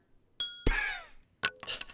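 Glass struck with a hammer in the stick-figure game Stealing the Diamond: a sharp clink, then a brief shattering burst, followed by two smaller tinkling impacts, close and fairly quiet.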